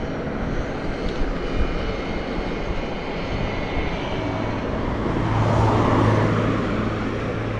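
A moped engine revs and accelerates on a road ride near Yalta, Crimea, a steady close drone with wind rush that swells louder toward the end.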